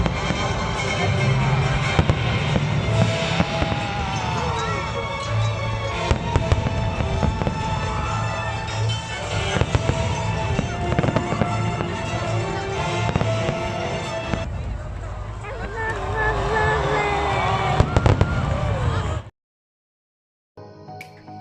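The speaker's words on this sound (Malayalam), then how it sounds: "അവിടെ ഫയർ വർക്ക് സ്റ്റാർട്ട് ചെയ്തപ്പോൾ നമ്മളത് കാണാൻ വേണ്ടിയിട്ട് പോയി" Fireworks at Global Village Dubai, a dense stream of bangs and crackles under steady crowd noise and nearby talk, continuous and loud before cutting off abruptly near the end.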